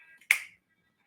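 A single crisp finger snap, close and clear, followed by near silence.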